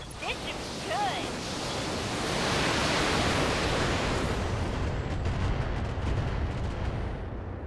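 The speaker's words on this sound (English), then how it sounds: "I'm gonna go ahead and fire on him with our Orion." Orion mech weapons in the BattleTech video game fire in a loud, sustained barrage of booming, rushing blasts that swell and then tail off, with a voice talking over them.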